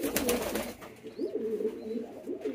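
A pigeon coos in a short series of soft, rolling calls, fairly close, after a brief burst of rustling at the start, with no speech over it.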